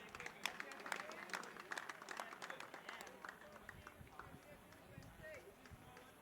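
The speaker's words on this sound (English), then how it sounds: "I want to ask you again to give him a round of applause." Audience applause at an event honouring a young decorated player, a sustained patter of many hands clapping mixed with crowd noise and a voice speaking through it.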